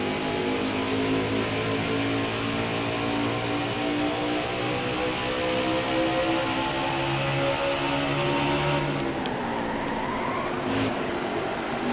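A race car engine in the NASCAR Heat 4 video game drones steadily for about twelve seconds at high revs, loud and continuous, with the pitch briefly dipping and shifting near the end. No one speaks.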